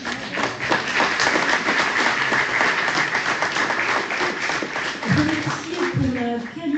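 An audience at a cultural event in Cannes breaks into applause, a dense, continuous patter of many hands clapping, with a voice starting to speak near the end.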